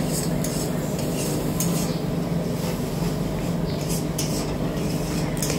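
Pointed gourd and prawn curry with ginger-garlic paste is stir-fried in a pan, with a steady sizzle and a continuous scraping stir that runs loud and close throughout.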